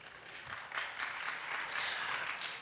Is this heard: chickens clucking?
no